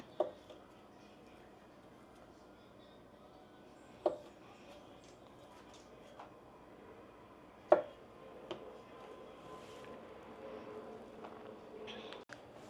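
Knife slicing through food on a cutting board, a few sharp separate cuts several seconds apart over a quiet room, faint and close.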